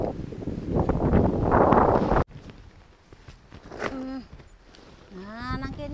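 Wind blows hard outdoors and buffets the microphone with a loud rushing roar, then drops away to lighter gusts while a person speaks intermittently.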